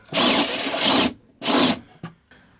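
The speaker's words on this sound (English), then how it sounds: "15mm torch drill." A 15mm drill bit enlarging a hole in the floor of a Burstner 744 motorhome van, heard as two loud grinding bursts separated by a brief pause, then a short knock and faint rustle.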